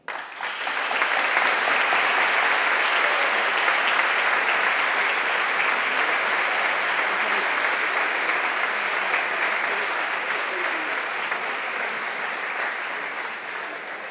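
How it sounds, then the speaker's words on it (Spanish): Sustained applause from a graduation audience for the teachers at a high school baccalaureate ceremony, broad dense clapping that swells quickly and continues steadily for over ten seconds, easing slightly toward the end. "Este aplauso é para vos"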